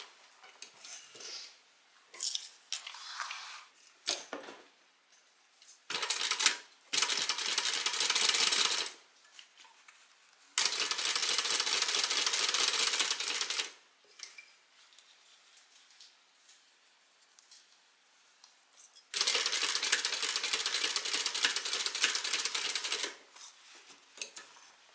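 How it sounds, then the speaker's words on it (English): A sewing machine stitches fabric in several bursts of steady whirring, each lasting a few seconds, separated by quiet pauses with small handling clicks. "now we are going to sew this on"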